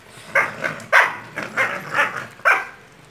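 Dogs bark at home on a cold, damp drizzly day, giving six sharp, fairly close barks at uneven intervals with quiet gaps between them.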